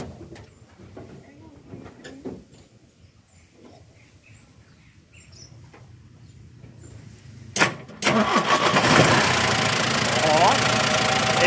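A JMW 229 truck engine roars to life after a quieter stretch of scattered noises, then settles into a loud, steady idle close by.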